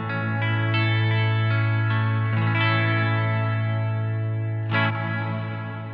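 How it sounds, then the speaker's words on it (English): A sustained electric guitar chord through the Glitz reverb on a Line 6 HX Effects unit rings out with a washy reverb tail, joined by a fresh strum near the end that blooms and decays. "Certainly sounds like reverb."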